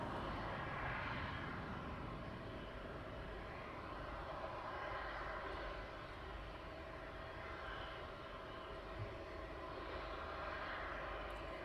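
An aircraft on night approach to East Midlands Airport, a steady distant engine drone holding at an even, fairly faint level throughout, with no voices.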